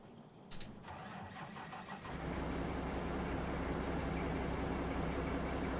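A machine's engine in the Out of Ore mining game cranks over briefly, then catches and settles into a loud, steady low idle that continues to the end.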